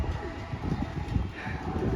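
Salara pigeons coo softly in a loft on a pleasant day, low throaty calls rising and falling at moderate distance over faint background noise.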